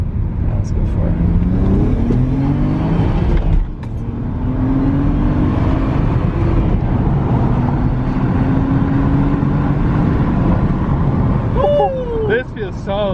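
A tuned BMW N54 135i/335i fitted with an upgraded chargepipe accelerates hard at full throttle, its engine droning loud and steady with rising pitch through the pull, heard from inside the car with people talking over it.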